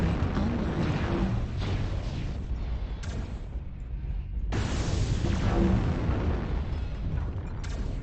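Artillery strike explosions from the MechWarrior Online game, a dense run of loud rumbling booms and blasts that continues steadily with brief dips, with no voices heard.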